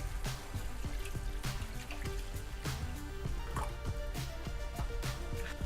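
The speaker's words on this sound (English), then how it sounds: "I'm going to fill the can with water and add that." Water poured from a tap into an empty tomato can gives a steady trickling and dripping sound with repeated small splashes and a faint hollow metallic ring, continuous for several seconds.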